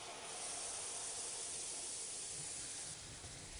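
Cream poured into hot salted-butter caramel gives a steady, bright hiss of bubbling steam that stays even and soft for a few seconds, with no talk over it.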